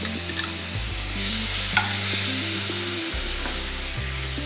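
Grated coconut sautés in a pan with a constant hiss and sizzle, overlaid by a low hum that shifts in steps, with occasional soft clicks from stirring.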